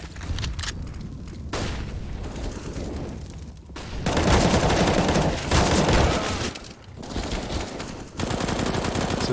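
Rapid bursts of AK-47 fire from a Counter-Strike match, loud and dense automatic volleys with brief pauses between them. The rattle comes in several sustained stretches with little talk over it.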